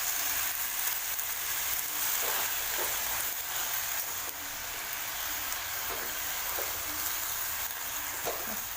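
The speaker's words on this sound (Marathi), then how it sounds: "आता ही भाजी याच्यामध्ये टाकते हिला आता छान परतून घ्यायची" Wild greens are sautéed in a pan, giving a soft, continuous sizzle with faint scraping touches, fairly quiet and steady throughout.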